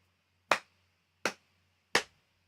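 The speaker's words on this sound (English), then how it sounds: "So I'm going to do a different sound for the 2-beat note. And I'm going to slap on my lap." Three sharp, evenly spaced body-percussion hits, clapping and slapping on the lap, ring out alone in a quiet room with short decays.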